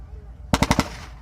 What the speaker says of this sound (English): Now the German mortars have just been fired.